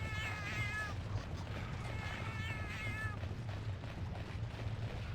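A cat meows in the video game Monster Hunter Freedom Unite. Two clear bursts of wavering, high-pitched meows sound over a low background rumble, and nobody speaks.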